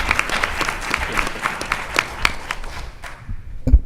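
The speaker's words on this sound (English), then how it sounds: "as we bring forth Chairman Fuller, let's just give the congressman a round of applause before he says a word" Conference audience applauding for a congressman, a steady patter of many hands clapping at moderate loudness that tapers off near the end, followed by a single sharp knock.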